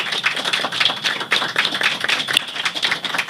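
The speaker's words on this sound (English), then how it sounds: "A round of applause, please." Audience claps at a Hispanic Heritage Day roundtable discussion, a lively patter of individual hand claps from a modest crowd, close and crisp, continuing evenly throughout.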